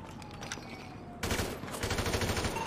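Gunfire in Counter-Strike: Global Offensive, a quick burst of rapid automatic shots after a quieter stretch of game sound, close and loud.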